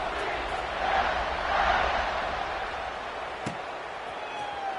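Crowd in a college football stadium roars after a scoring drive, a broad sustained cheer swelling and easing over a few seconds, heard from a distance under the ambience.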